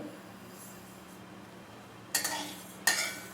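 Unpolished sesame seeds dry roasting in a pan over medium heat: a faint low background, then two short bursts of rattling, scraping stirring near the end, with no talk.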